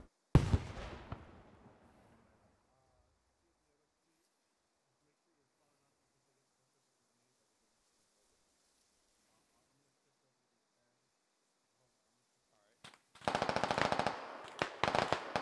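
Bursts of automatic gunfire in the video game Squad, a dense volley in the first two seconds then near silence, followed by another loud, sustained burst of rapid shots near the end.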